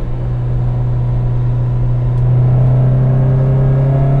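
A high-revving Honda F20C engine in a Toyota AE86, revving to 9,000 RPM, holds a steady, tonal hum, then steps up in pitch and loudness midway, with no voices.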